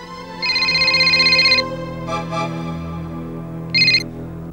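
A telephone rings in a TV drama scene with an electronic ringtone, two long bursts and a shorter third, loud and clear over a soft music bed with no speech.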